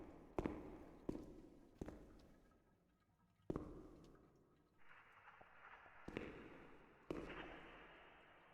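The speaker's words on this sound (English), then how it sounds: "Sound like a distant gunfire." Distant gunfire in a psychological adventure video game: seven or so dull, booming shots at irregular intervals, each with a long fading echo, far off and alone, with a hissing rumble building later on.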